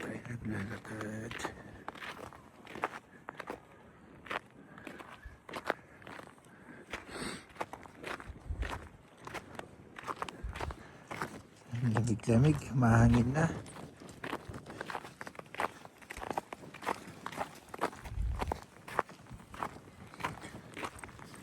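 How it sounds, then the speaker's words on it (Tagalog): Steady footsteps crunch along outdoors at a walking pace, with people chatting over them and occasional louder bursts of talk. "tayo naglalakad"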